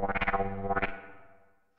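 A short burst of distorted dubstep wobble bass synth in Virtuoso VR, wobbling in quick rhythmic pulses, then ringing out and fading over a second or so.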